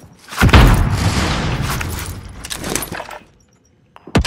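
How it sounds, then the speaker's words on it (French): A stun grenade goes off in Call of Duty Warzone on Rebirth Island, a sharp loud blast followed by a few seconds of ringing, rumbling decay that fades to near silence, with faint clicks returning at the end. "Grenade paralysante."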